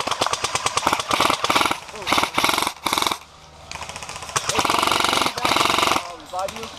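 Bursts of rapid full-auto fire from an M60AE4 airsoft gun fitted with a new motor, longer barrel and 11.1 battery, loud and close in several long strings with short pauses, with players talking in between.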